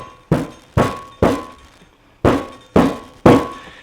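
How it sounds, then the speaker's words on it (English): A cake pan of blackberry wine cake batter is banged down on a folded towel six times in an uneven rhythm, each one a dull, close thunk with a short decay. "Why are we banging it?"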